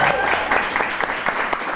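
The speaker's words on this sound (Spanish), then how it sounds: "¿Cuál es el aplauso para Bernie?" A studio audience at a technology show applauds a guest being introduced, brisk, loud clapping with sharp individual claps standing out, and a voice briefly mixed in.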